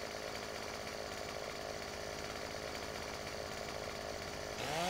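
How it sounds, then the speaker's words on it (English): Chainsaw in the Farming Simulator 2017 video game cutting through a tree, a steady, loud buzzing drone running unbroken, with a rising pitch sweep near the end. "if you want to chop it down, you got to angle your chainsaw right where you want it"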